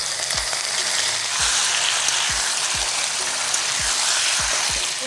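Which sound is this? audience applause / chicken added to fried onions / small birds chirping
chicken added to fried onions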